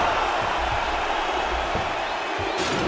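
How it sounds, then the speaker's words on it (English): An arena crowd at a Demian Maia vs Kamaru Usman MMA fight roars after round one, a dense, steady wash of cheering that stays loud throughout. "So the crowd voicing its appreciation after that round"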